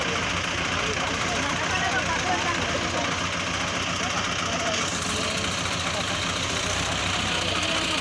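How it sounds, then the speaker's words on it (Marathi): Tractor engines, doubled up in front, labor to pull a heavily loaded sugarcane vehicle, a steady loud rumbling drone with knocking vibration, close by, with people talking over it. "आता डबल समोरून ट्रॅक्टर लावलेले आहेत सगळे"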